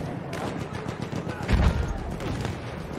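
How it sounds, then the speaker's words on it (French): Gunfire in the video game Battlefield 1, a burst of shots around the middle of the clip over a busy, continuous game soundscape, moderately loud. "Il y a quelqu'un qui a tiré une balle."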